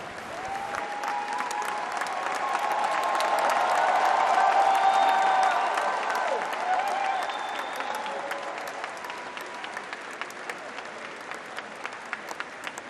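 Large audience applauding at a Papa Wemba tribute ceremony in Abidjan, sustained dense clapping that swells in the middle and thins out toward the end, with faint crowd murmurs and a few tonal sounds layered in.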